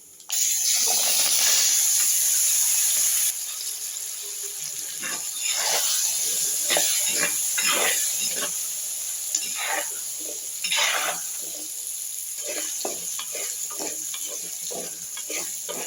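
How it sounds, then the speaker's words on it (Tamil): Mustard, cumin and fenugreek seeds fry in oil in a clay pot, making steady close crackling with bursts of popping and occasional stirring scrapes throughout. "கடுகு நல்லா வெடிக்கணும் சீரகம் நல்லா பொரிஞ்சு வெந்தயம் நல்லா செவந்து வரும்போது"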